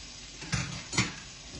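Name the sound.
kidneys added to a pan of peas over the heat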